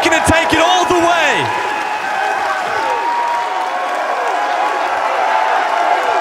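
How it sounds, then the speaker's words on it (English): An arena crowd at an esports match roars and cheers in a loud, sustained wash, with an energetic voice speaking over the noise at the start. "The crowd completely behind SSG here"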